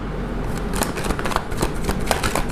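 Tarot cards being shuffled in the hands, a brief run of soft rapid riffling and flicking clicks, close and fairly steady for a couple of seconds.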